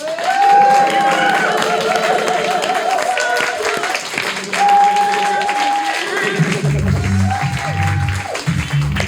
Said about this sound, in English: So let's bring him on with a warm round of applause, Martin Willis.